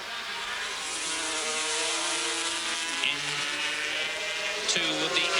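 500cc racing motorcycles at Assen in 1984 scream past in a close pack, a continuous loud high-revving engine roar with rising and falling pitch as the machines pass nose to tail.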